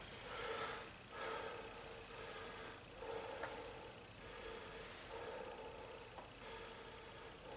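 A patient breathes deeply during a chest exam, with slow repeated inhale and exhale cycles that are soft and close to the microphone. No one speaks.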